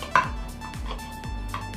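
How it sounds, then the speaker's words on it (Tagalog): A knife chops tomatoes on a cutting board in a few sharp, evenly spaced strokes, close up, with a faint steady hum in the background. "Hiwa-hiwain muna natin yung kamatis."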